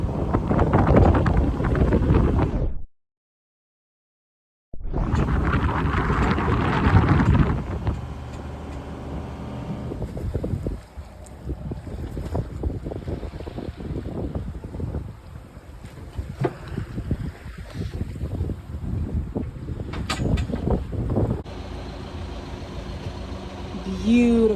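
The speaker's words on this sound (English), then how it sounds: "So we just put out our first sail." A 41-foot Morgan Out Island sailboat under sail, with steady wind rushing across the microphone and water noise around the hull. Voices talk intermittently over the wind, and there is a brief silent gap early on.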